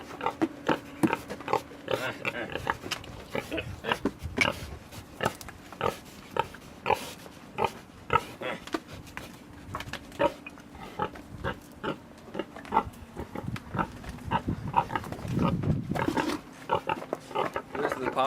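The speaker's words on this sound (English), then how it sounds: "This is the boar's den, the den of the Papa Pig." A large boar, about 450 pounds and 1.5 years old, grunts in its farm den, with repeated low snorts and grunts at close range, some louder rustling near the end, and a person talking now and then over them.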